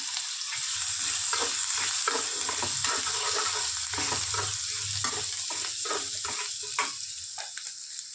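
Chopped ginger sizzling with whole cumin seeds in hot oil, a loud continuous frying hiss with frequent stirring scrapes and clicks, close-up with no voices.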